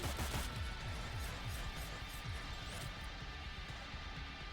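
Gunfire in the tactical video game Cyber Knights: Flashpoint, a rapid run of sharp repeated shots and impacts that starts loud and then continues as a steady, slightly quieter burst, with no talk over it.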